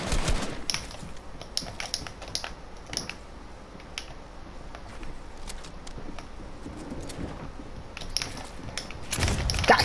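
Rapid video game gunfire crackles in repeated bursts of enemy shots, sharp and dense early on, then thinning into scattered pops before a loud burst at the end, with no talking over it.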